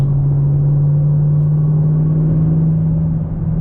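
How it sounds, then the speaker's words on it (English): Loud, steady low exhaust drone from a car with its muffler deleted, cruising through a neighborhood, a constant deep hum with a strong low tone holding throughout with no pauses. "It's pretty loud with that muffler delete."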